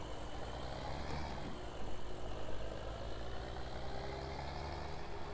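A tractor engine idles in Farming Simulator 17, a steady, continuous low rumble with a faint mechanical hum that holds evenly throughout, with no voices over it.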